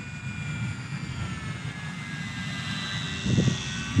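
A small Eachine Mini P-47 RC warbird plane flies with a continuous buzzing electric motor and propeller drone that rises slightly toward the end.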